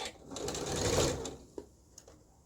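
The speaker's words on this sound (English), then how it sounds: "don't forget to take your pins out as you sew." A sewing machine stitches a blouse, a close, fast mechanical whir that swells and then stops, followed by a couple of faint clicks.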